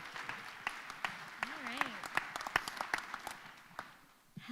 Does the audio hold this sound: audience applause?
yes